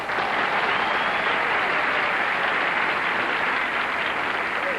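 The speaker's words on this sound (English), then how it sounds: "let's applaud Charlie McClure and Sue Dismute" A studio audience at a 1978 TV game show applauds the two contestants, a full, steady wash of clapping that holds at one level throughout.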